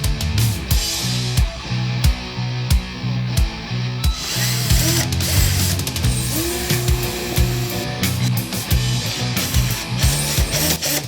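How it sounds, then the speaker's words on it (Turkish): A power drill whirs in repeated short bursts, drilling a hole into a wooden board, with grinding, rubbing scrapes between pulses, loud and close. "Tahtayı delmemiz gerek. Bulduğumuz bu odunu yerleştirebilecek bir delik açalım."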